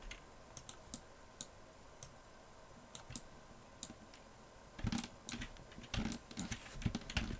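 Mouse clicks while posing a rig in Blender with the IMVU Toolkit, sharp, isolated taps spaced irregularly at first, then a quicker cluster of clicks, close and quiet with no talking.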